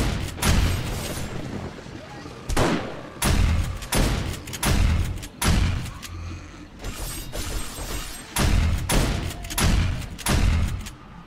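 An automated turret fires at zombies in 7 Days to Die, sending out repeated loud bursts of gunfire with short gaps between them and a mechanical rattle underneath.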